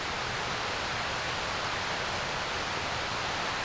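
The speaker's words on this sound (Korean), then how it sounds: "여기는 또 옆에 계곡이 있어서 계곡 물소리도 들려서 좋고" A mountain valley stream flows beside a forest campsite, giving a constant, dense rushing hiss that stays steady throughout with no other sounds standing out.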